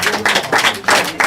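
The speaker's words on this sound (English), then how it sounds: "Round of applause for this." A small audience at an evening event claps in a few loose bursts, close and fairly loud, with uneven sharp hand strikes rather than a sustained roar.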